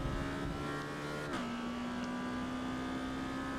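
A race car engine accelerates in Forza Motorsport, a B-class Exocet at the Nürburgring: a loud, steady engine drone that climbs in pitch, drops briefly at a gear change, then rises again, close and continuous with no talking.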